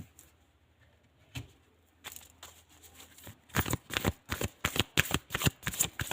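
Tarot cards are handled, then shuffled for a collective reading, a few soft flicks followed by a fast, close run of crisp riffling bursts, loud and rhythmic, no talking.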